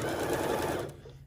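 A sewing machine stitches a twisted infinity scarf in a quick, continuous whirring run that stops abruptly just before the end, close and clear with no talk.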